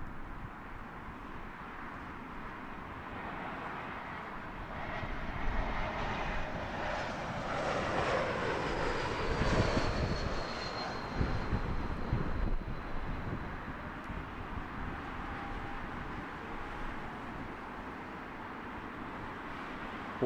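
An Air Baltic Airbus A220 airliner roars past at Heathrow Airport, its engine noise swelling from a distant rumble to a loud broadband peak mid-way before easing back, with wind buffeting the microphone.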